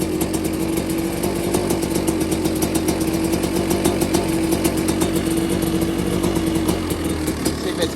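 A Kawasaki KX500 two-stroke motorcycle engine idles steadily and loudly up close, its sharp, rapid buzzing pulse holding an even rhythm throughout.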